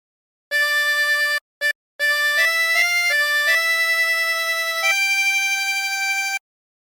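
Tremolo harmonica with 20 holes plays the hymn What a Friend We Have in Jesus, a clear, close, reedy melody of sustained notes with brief breath gaps near the start.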